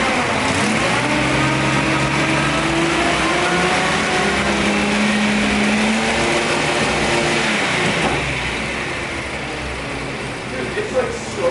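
A Datsun 240Z engine fires and revs up in rising, sustained bursts, loud and near, then settles back toward idle as a voice talks over it.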